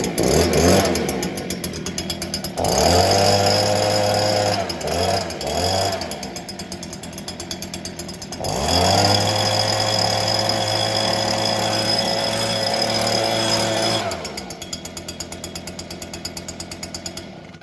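A Stihl SH86 handheld blower engine fires up and revs loudly, running in two sustained bursts with a drop in pitch between them, then settles to a lower idle toward the end; no speech.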